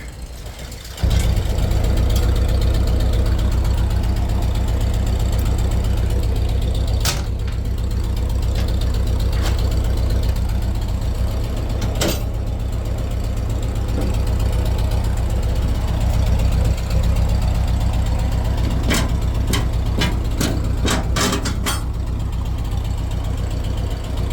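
A vintage 1950s Ford tractor engine idles steadily and close by with a low, continuous throb for the whole stretch, after a short quiet start, with a few faint clanks over it.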